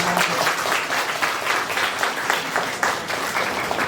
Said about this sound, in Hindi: तालियों के द्वारा उनको बधाई।